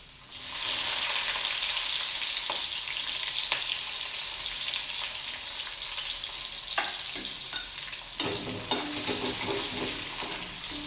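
Garlic and green chili frying with cumin seeds in oil in a pan, a steady bright sizzle with occasional scraping stirs and a louder burst near the end, no talking.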